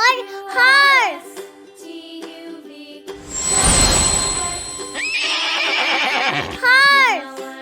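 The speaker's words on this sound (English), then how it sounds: "H for horse." A horse whinnies twice, high and wavering, near the start and again at the end, with a rattling, noisy burst and tinkling sounds between.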